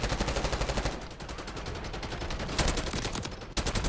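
Rapid automatic gunfire from a Call of Duty Black Ops 6 match, dense repeated bursts sounding loud and close, with almost no talk over it.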